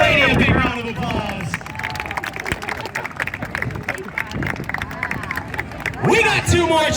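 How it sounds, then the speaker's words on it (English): Fairground crowd at a BMX stunt show claps and cheers for a young rider, mixed with loud nearby voices and babble, with louder bursts at the start and end. "Let's give this young lady a big round of applause"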